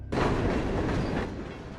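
A freight train carrying tank cars of toxic chemicals rolls past on its rails, a loud continuous roar and rumble that starts abruptly and holds steady before easing slightly, with no voices.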